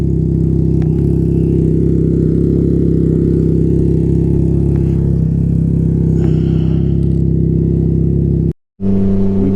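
A Can-Am Ryker 900 three-wheeled motorcycle's engine hums steadily and loudly while riding on a gloomy day, a constant low drone broken by a brief dropout near the end before resuming.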